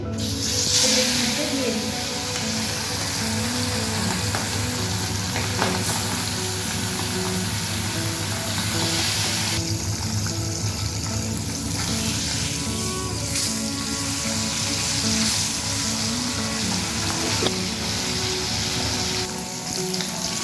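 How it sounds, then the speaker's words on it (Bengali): Hilsa fish frying in mustard oil in a wok over a gas flame, a loud, steady hissing sizzle close by that carries on unbroken, with light spattering throughout. "কুড়ি মিনিট পর মাছটাকে ভেজে নেব"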